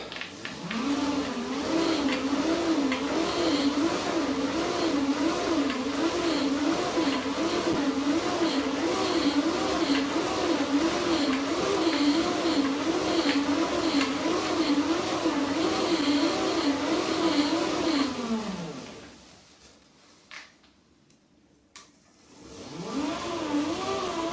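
A bike-style charger built from twin hoverboard motors runs steadily, a droning whir with a regular pulsing wobble, close and fairly loud, then it winds down into near silence before starting again at the very end.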